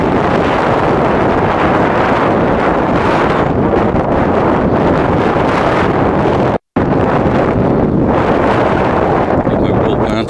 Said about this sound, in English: Oh yeah, that's a good gust.